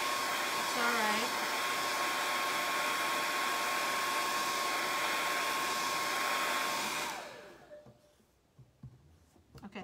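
Handheld hair dryer blowing on wet paint, a loud steady close-up whoosh with a faint whine that runs for about seven seconds and then cuts off, leaving quiet room noise and light handling sounds.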